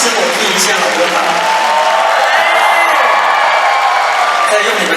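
A large concert crowd at the opening show of Kaohsiung's music centre roars and screams in a loud, continuous wash of voices, with cheering shouts mixed in.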